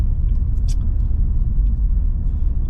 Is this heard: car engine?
yes